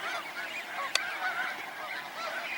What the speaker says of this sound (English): All kinds of ducks and geese making a racket as the sun comes up